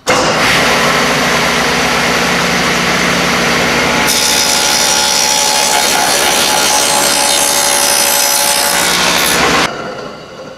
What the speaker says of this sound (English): now that you got your first dado cut